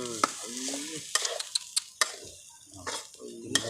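Climbing perch and curry paste stir-fry in a pan, with scraping, clattering strokes and sharp ticks of metal against the pan, while a voice talks over and between the bursts of stirring.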